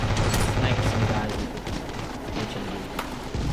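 Gunfire in the video game Ravenfield, a few sharp sniper shots cracking amid ongoing distant game battle noise, with a person talking over it.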